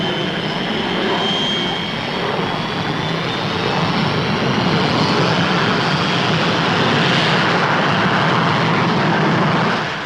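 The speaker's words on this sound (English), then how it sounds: "The Delta II is yet another research aircraft probing into the future." Fairey Delta 2 supersonic research jet with exceptionally thin wings making a flying display pass, a steady loud roar with a sweeping whine that rises and swells across the whole stretch, no voices.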